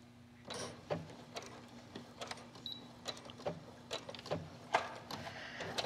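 Sewing machine stitching tucks in a bolster pillow, a quiet rapid mechanical whir with repeated soft clicks and short bursts, close and faint.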